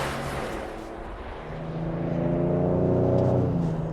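A 2025 Ford Explorer ST with a twin-turbo V6 pulls away, its engine note rising into a steady droning hum heard from inside the cabin and building gradually louder.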